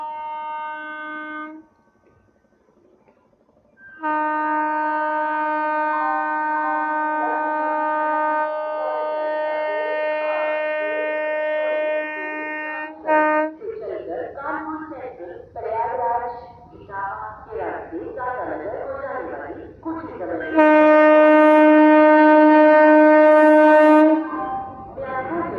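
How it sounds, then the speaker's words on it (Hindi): Indian Railways train horn blares in long sustained harmonic blasts as the Nandan Kanan Express overtakes a MEMU local near Shikohabad Junction, with train rumble and someone talking in between, then another loud horn blast near the end. "और ओवरटेक आने वाली है नंदन कानन एक्सप्रेस, जो पुरी से आनंद विहार के बीच चलती है"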